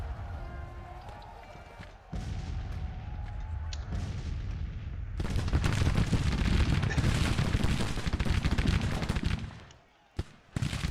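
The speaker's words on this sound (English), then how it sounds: "Let's shoot at these guys." Infantry fire rolls across a Grand Tactician Civil War battlefield, dense crackling volleys and booming shots building into a sustained loud fusillade before cutting off near the end.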